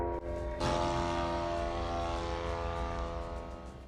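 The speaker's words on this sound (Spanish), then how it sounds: "se puede ver a varios drones volando junto con el sonido de los motores" Several drones flying during an attack, their engines a steady, loud propeller-like drone with a strong tonal hum that swells after a brief dip and holds throughout.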